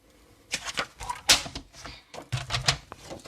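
Design paper being cut to size for a two-panel Stampin' Up card, heard as a series of short crisp snips and rustles close by, in uneven bursts with brief pauses between them.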